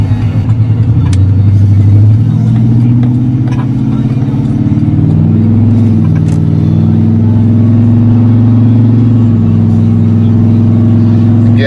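A car with a cammed 6.2L engine accelerates gently, giving a steady, loud, deep lumpy idle-like rumble from inside that swells slightly as the revs rise and then holds even. There is no talking.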